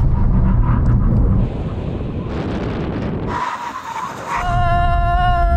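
Cars braking hard from 100 in a full emergency stop during a BMW M3, Tesla Model 3 Performance and Audi RS5 drag test, loud wind and road roar fading as they slow, then a high whine near the end.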